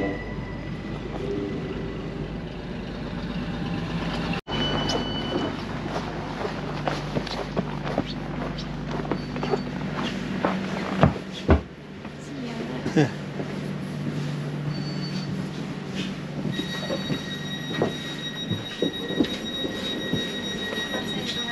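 A passenger train in Estonia rolls along its rails with a continuous rumbling clatter, occasional squeals and knocks, and brief louder jolts, heard from inside the carriage with faint voices in the background.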